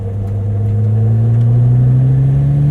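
A homemade twin-turbo Lamborghini engine pulls hard under acceleration, a loud steady drone with its pitch rising smoothly as it gains speed, close and alone with no talk.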